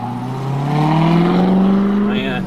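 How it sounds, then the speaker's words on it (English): Traffic rumbles past an open car window while driving, with a loud exhaust drone rising steadily in pitch as a vehicle accelerates nearby, along with road and wind noise. "No shortage of super exhausty type noise, right?"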